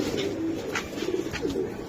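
A silver Giribaz pigeon coos softly and repeatedly at close range, low murmuring calls rolling over a steady background hum, with no talking.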